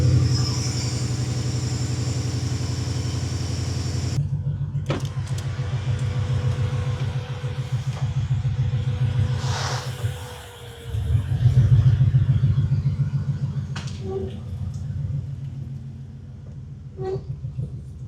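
A car with a supercharged Ford Coyote V8 swap runs with a deep, loud burbling idle, then revs up and settles in several swells, with little or no supercharger whine.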